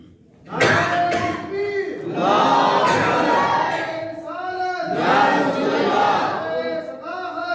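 Crowd at a religious gathering honoring Syedna Siddiq-e-Akbar roaring a chanted slogan in unison, two loud sustained group shouts with a brief dip between, voices swelling together close and full.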